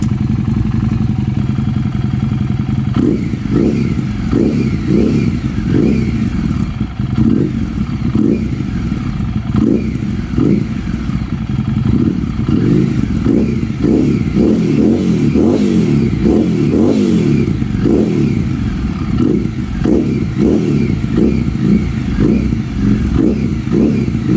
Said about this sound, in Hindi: तो मैंने रेव अप करना शुरू कर दिया।